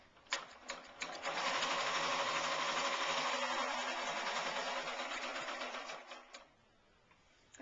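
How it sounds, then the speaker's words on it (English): A domestic sewing machine running a straight stitch down the centre of a felt heart to hold ribbon in place, a few short starting bursts, then a steady close whirring run for about five seconds before slowing to a stop. "I'm just going to stitch down the centre of the heart with an ordinary straight stitch"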